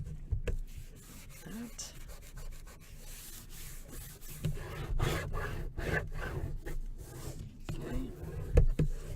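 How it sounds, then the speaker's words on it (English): Glued photo paper edges on a scrapbook album page are burnished by hand, giving a steady soft rubbing and scraping under occasional brief speech. "Okay, and burnish it."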